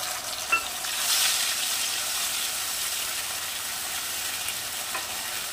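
Radhuni and ginger paste sizzles steadily in a pan over a low gas flame, with a constant close hiss and a few soft scrapes as it is stirred.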